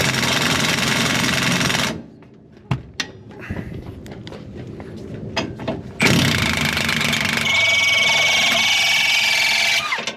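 A 1/2 inch impact wrench on its lowest setting hammers at a Ford Ranger leaf spring bolt, loud and continuous for about two seconds, then quiet clanks, then another long sustained burst near the end.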